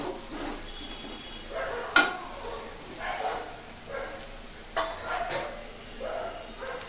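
Onion, ginger and garlic fry with bay leaves in hot oil, a steady close sizzle broken by occasional stirring scrapes and clatter.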